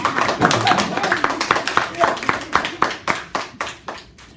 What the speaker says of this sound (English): And let's give this team a good golf clap